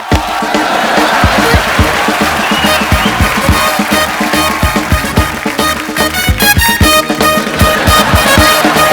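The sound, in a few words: studio audience applause welcoming Anushka Sharma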